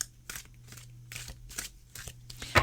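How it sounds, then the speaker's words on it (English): A deck of Lord of the Rings tarot oracle cards is shuffled by hand in a series of quick, crisp riffling bursts, about six or seven in a loose rhythm, close and fairly quiet. "Let me shuffle one more cut shuffle."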